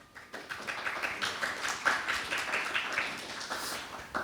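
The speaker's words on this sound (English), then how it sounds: "Please welcome Anthony with applause." Audience applause greeting Anthony Shaw as he takes the stage for a talk at PyCon JP 2025, a steady wash of many hands clapping at moderate distance, even in density throughout without a clear finish.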